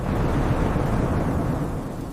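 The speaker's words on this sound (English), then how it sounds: "The storm won't let up." A deep, continuous thunderous rumble rolls through a storm over a daikon farm, loud and dense throughout without any voices.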